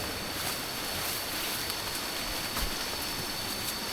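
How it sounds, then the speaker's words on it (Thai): A waterfall in a rural garden and farm setting, a steady broadband rushing wash of water that stays constant and fairly loud throughout, with no voices. "มีน้ำตกอีกแล้วนะครับ"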